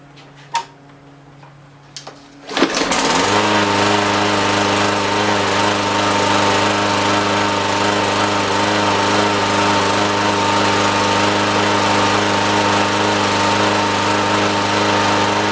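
A Briggs and Stratton small engine with a freshly cleaned carburetor and recoil starter, faint handling clicks then a pull-start catching after two seconds and settling into a loud, steady, close running drone that continues alone.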